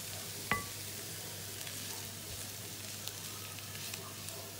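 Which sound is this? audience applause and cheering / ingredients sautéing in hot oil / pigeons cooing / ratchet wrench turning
ingredients sautéing in hot oil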